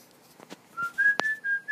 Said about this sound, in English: Whistling? Yeah!